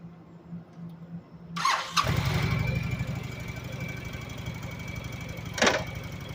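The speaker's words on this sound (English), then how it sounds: "Okay, engine started, let's go." A motorcycle engine cranks and catches, then settles into a steady idle; a brief squeal rises near the start and again later, close by.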